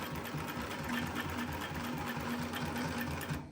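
A Global LP 9971 heavy-duty post bed wheel feed industrial sewing machine stitches steadily, its motor hum and rapid needle clatter running continuously at close range before cutting off at the end.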